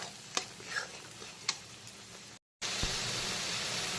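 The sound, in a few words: onion paste frying and stirring in pan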